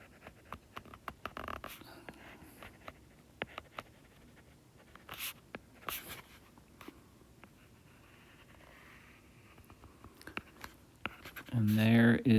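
A pen scratches across paper in quick, faint strokes, sketching a trigonometric graph of a cosecant curve, with quiet pauses between marks and soft speech in the background.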